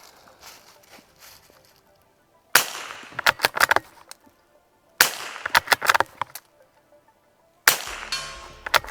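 Three sharp shots from a Savage Mark II .22 rifle fired at targets outdoors, spaced a few seconds apart, each followed by quick rattling clatter, with quiet pauses between.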